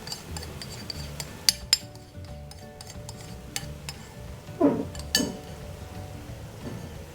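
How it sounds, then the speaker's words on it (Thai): Curry chicken spring roll filling is stir-fried in a pan with a thickening batter mixed in. A spatula clinks and scrapes against the metal in scattered sharp knocks over a low sizzle, close by and without speech. "เราก็ผัดไปเรื่อยๆ"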